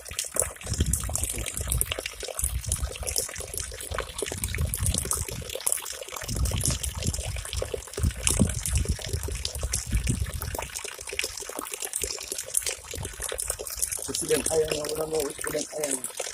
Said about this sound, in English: Yeah man, natural spring water.